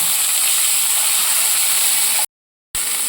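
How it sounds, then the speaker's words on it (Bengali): Figs dropped into hot oil in a pan for a Bengali vegetarian village dish, giving a steady, dense sizzling hiss that runs continuously and fairly loud, broken by a short gap of silence near the end. "এবার ডুমুরটা ছেড়ে দিলাম।"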